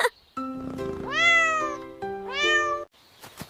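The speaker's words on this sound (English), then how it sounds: "This is a cat, and her baby is called a kitten." A cat gives two clear, drawn-out meows close by, each rising and falling, with brief quiet gaps between them.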